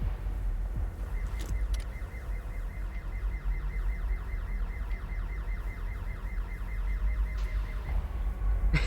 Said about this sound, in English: He sets off a car alarm.